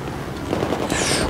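Enemy machine gun fire in Battlefield 4 rattles in a steady burst of rapid shots at moderate distance, with a brighter crackle joining partway through.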